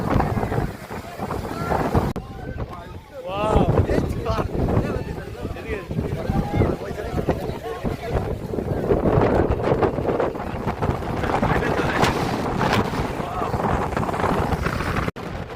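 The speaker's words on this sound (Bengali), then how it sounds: "এই ঝড়ো বাতাস, এত ভয়ঙ্কর বাতাস" Fierce stormy wind blows hard and steadily outdoors, loud gusts buffeting the microphone while voices are heard faintly beneath the roar.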